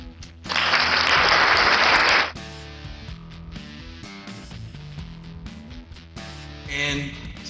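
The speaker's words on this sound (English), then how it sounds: "Here's some applause for me." Canned applause from a V8 live sound card, a loud dense burst of clapping near the start that cuts off abruptly, followed by music-like tonal playback through a BM-800 condenser microphone setup.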